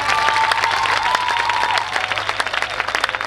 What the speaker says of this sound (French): est-ce que je peux écouter les applaudissements de...